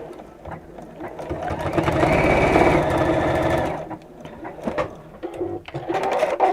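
Sewing machine stitching straight across opposing seams, a steady close motor whir swelling through the middle then breaking into shorter bursts, with faint bird cooing in the background.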